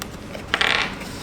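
A small plastic die from a Magic: The Gathering War of the Spark prerelease pack rattles and clicks briefly as it is handled, a short close burst in a quiet room.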